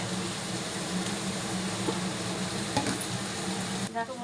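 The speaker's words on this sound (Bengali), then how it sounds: "দেখুন বন্ধুরা পেস্টে পেঁয়াজটা ভাজা" Continuous soft sizzling of salted onion paste frying in a pan, with a few faint clinks of a utensil and no talking.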